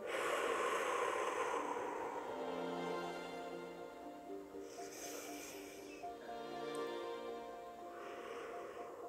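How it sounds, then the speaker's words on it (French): Slow meditative breathing, each long exhalation pushed out audibly with a soft, hissy, slightly snorting rush of air, followed by quieter inhalations, close and steady with no talk. "Essayez sur 3 respirations de rallonger l'expiration. Osez peut-être même faire un peu plus de bruit"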